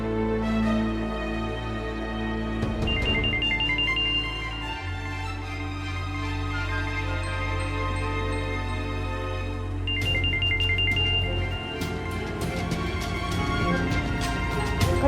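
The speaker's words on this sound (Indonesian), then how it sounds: "Kok teleponnya nggak diangkat, Mas?" A mobile phone ringtone rings on and on unanswered, a looping melodic tune repeating steadily at close range with no one speaking.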